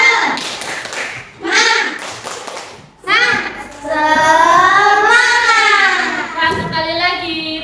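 A classroom group claps in quick rhythmic bursts, then children's voices join in a loud, sustained Indonesian "tepuk semangat" chant with more clapping near the end.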